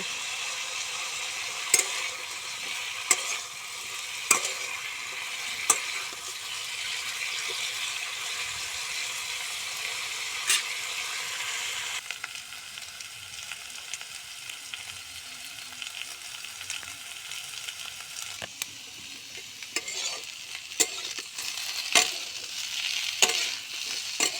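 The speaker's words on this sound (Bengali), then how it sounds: "ওই সরিষার সরিষার তেলে আলু আর পটলগুলো ভালো করে ভেজে নিব" Potatoes and pointed gourd fry in mustard oil with a constant bright sizzle, punctuated by regular sharp clacks of a spatula against the pan, no talking.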